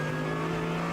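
Race car at the Nürburgring 24 Hours, a steady loud engine drone held at constant pitch for the whole second, with no voices over it.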